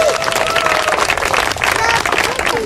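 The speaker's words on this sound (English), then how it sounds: "So I think we can give ourselves a round of applause for showing up today." Participants at an autism awareness walkathon in Winnipeg clap, a loud, close burst of crowd applause with scattered cheers and voices mixed in.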